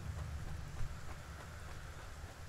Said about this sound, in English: It's raining again, I can hear it.